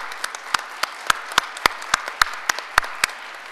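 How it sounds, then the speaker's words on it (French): Sparse applause at a French healthcare conference day: individual sharp claps from a small audience, irregular but fairly steady, close and distinct, with a thin patter between the louder claps. "je vous propose de les applaudir"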